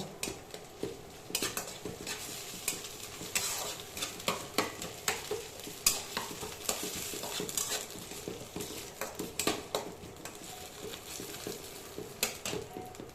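Ginger, chili and garlic paste frying in a pan, with a soft sizzle under repeated scraping and clinking of a spatula stirring against the metal throughout.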